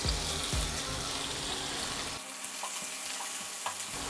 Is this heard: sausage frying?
yes